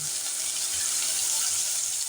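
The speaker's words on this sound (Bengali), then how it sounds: "বেগুনটাকে আগে হাই ফ্লেম করে আমাকে ভাজা করে নিতে হবে" Eggplant pieces frying in oil over a high flame, a steady broadband sizzle that holds evenly throughout, close and unbroken, with no voices over it.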